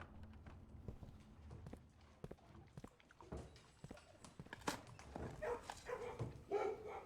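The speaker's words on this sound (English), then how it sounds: "And we got to pet a dog." A dog in the video game Blue Prince, faint soft thuds and clicking steps with a few small yelping or whining sounds near the end, all quiet and scattered.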